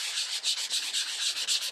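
Sandpaper rubs briskly over a cosplay costume piece in rapid back-and-forth strokes, a dry, hissy scraping repeated in an even rhythm, close up with no talking.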